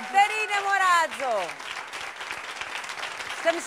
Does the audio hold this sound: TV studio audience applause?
yes